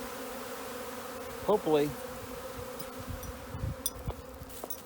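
A swarm of honey bees hums in a steady, dense drone throughout, with a few louder individual bees zipping close by near the middle and a brief voice speaking over it.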